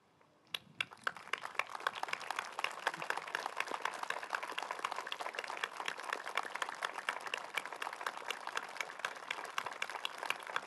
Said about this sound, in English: be recognized with a round of applause.